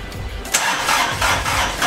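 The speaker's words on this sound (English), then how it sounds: "Now we gotta start the tractor to get that out of the way" A tractor engine cranks and catches, with sputtering bursts and a rising rumble as it tries to start, loud and close.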